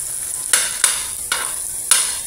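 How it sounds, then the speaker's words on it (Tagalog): Garlic, ginger and bay leaf being stirred in a hot pan with a steady sizzle, broken by four sharp scrapes or clinks of the utensil against the pan. "Isa tayo ng bawang, bawang, luya at laurel para mabango kaagad yan."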